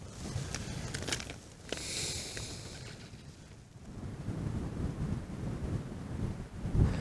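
Wind gusts across an open Finnish wilderness fell, buffeting the microphone in uneven low rumbling surges that rise and fall, fairly faint, with a brief hissing gust early on and no speech.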